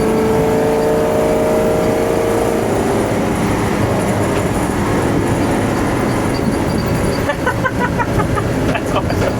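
A 1967 Ford F600 truck's engine drones steadily while driving, a loud, continuous low rumble with road and wind noise and a rattling change in the last seconds.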